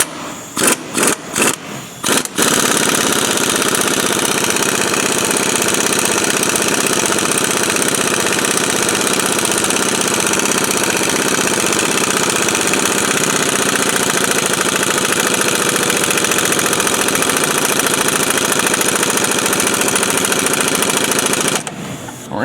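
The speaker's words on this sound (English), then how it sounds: "We're gonna get that as tight as we can with the impact" An impact wrench hammers a traction bar bolt tight on a Duramax 2500/3500 truck with a 1 5/16 socket: a few short bursts, then a long, loud, continuous rattling run and a brief final burst, with no speech.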